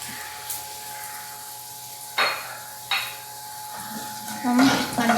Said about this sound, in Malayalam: അണ്ടിപ്പരിപ്പും മുന്തിരിങ്ങയും കൂടെ ഒരു ഗോൾഡൻ കളറാകുന്നത് വരെ നമുക്ക് ഇളക്കാം